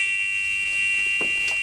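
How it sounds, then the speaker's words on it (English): A church entry buzzer sounds a steady, loud electronic drone without a break, with faint thumps underneath. "a buzzer went off, telling him that someone was entering the church."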